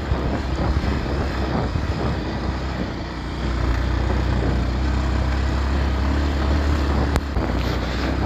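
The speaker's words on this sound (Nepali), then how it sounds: "यो बाइकको साउन्ड चाहिँ मिठो छ" Motorbike engine droning steadily while riding along a village road, a loud continuous hum with buffeting wind noise throughout.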